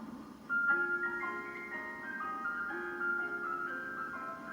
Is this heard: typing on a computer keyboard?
no